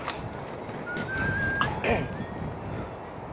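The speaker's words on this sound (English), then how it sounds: "You can hear the whistles." Herders whistle to drive a yak train passing on a mountain trail, sounding as several sharp, thin whistles over a steady outdoor rumble, with a faint voice in the background.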